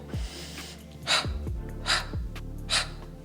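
Audible breaths in and out during a Pilates posture exercise, close and fairly soft, repeating at a steady pace with a low background hum.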